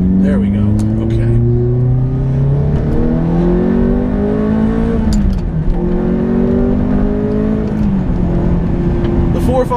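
A Ferrari F430 with a manual gearbox and exhaust baffles wired permanently open, its engine loud and close as it revs and pulls through the gears. The pitch climbs repeatedly between shifts, with a voice faintly underneath.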